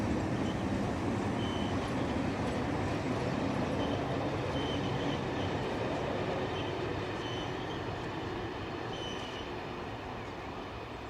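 A passenger train hauled by electro-diesel locomotive 73-109 Battle of Britain on its last runs in old livery, rumbling steadily past at close range with a loud, continuous roar and faint wheel squeal throughout.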